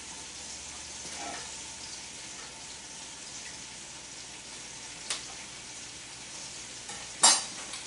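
Garlic sizzles in a hot pan cranked to high heat, a steady close frying hiss that runs throughout, with a couple of brief utensil clacks near the end.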